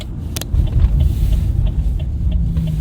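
A car rolls on a clear road during a test drive after an ABS wheel bearing repair, its low engine and tyre rumble steady and close, with a brief mechanical clatter as the brakes are applied.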